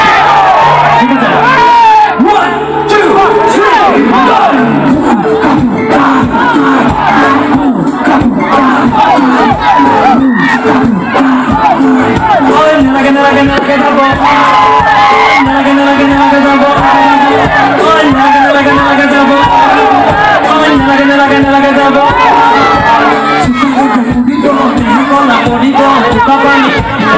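A large crowd at a live Bihu stage show shouts and cheers together continuously, loud and dense, with voices chanting along over music and an amplified voice calling out.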